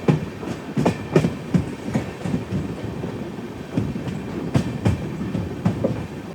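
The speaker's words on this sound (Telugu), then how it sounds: "మన ట్రైన్ అయితే బ్యూటిఫుల్ టర్నింగ్ తిరుగుతుంది" An express train running from Tiruchanur to Nanded rolls along the tracks through a bend near a bridge, wheels clicking and clattering in an irregular rhythm over a steady rumble, close and fairly loud with no talking.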